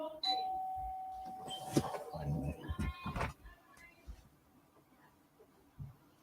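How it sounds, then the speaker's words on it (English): A doorbell chimes with a clear ringing tone, followed by clattering and a second burst of jingling, then the room goes quiet. "So kids upstairs ring my doorbell"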